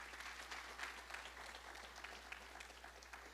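A church congregation claps together in steady, dense applause that continues for the full stretch, with no talk over it.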